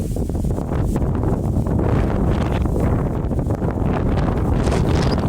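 Strong wind on a mountain hilltop roars steadily and loudly across the microphone, a constant buffeting rush with no pause from start to finish.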